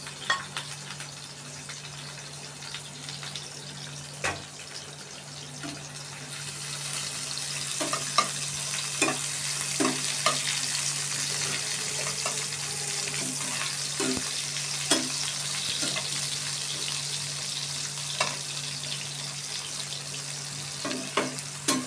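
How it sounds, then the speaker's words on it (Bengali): Onions and green chilies fry in a pan with a steady, close sizzle that swells louder partway through, broken by occasional stirring scrapes and clicks; no one talks. "আমি ভালোভাবে ভেজে নেব"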